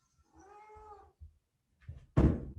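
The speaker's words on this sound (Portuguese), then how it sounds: "Isso é um gato." A cat gives a single drawn-out meow indoors, followed by a few soft bumps and then a loud thump nearby.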